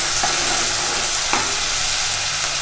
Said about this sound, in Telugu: ఉల్లిపాయ ముక్కలు కలర్ చేంజ్ అయ్యి గోల్డెన్ కలర్ వచ్చేంత వరకు ఫ్రై చేసుకోవాలి.